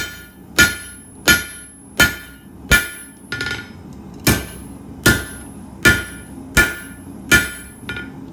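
A hammer strikes hot H-13 tool steel on an anvil while forging it into a square taper, ten sharp ringing blows spaced roughly evenly about a second apart, loud and close with no talking.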